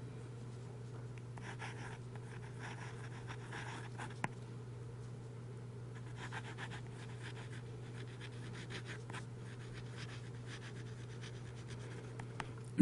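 A Pilot Metropolitan fine steel nib pen scratches softly across paper in short intermittent strokes, faint and close over a constant low hum, with no talk.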